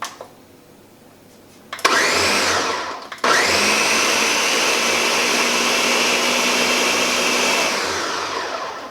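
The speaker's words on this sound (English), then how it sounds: "So first thing to do is just to blend them up to make a puree" A countertop blender purees blackberries and raspberries for jam, starting with a click, roaring up to a loud, steady whir, briefly cutting out, then running again at full speed before easing slightly.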